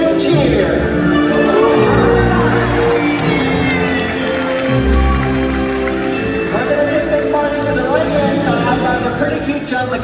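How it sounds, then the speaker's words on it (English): Spectators at a SeaWorld Orlando killer whale show raise a loud, sustained crowd roar with cheering and clapping, mixed with music and an announcer's voice, holding steady throughout. "let's give him a great big cheer"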